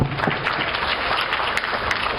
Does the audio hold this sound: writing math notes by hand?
no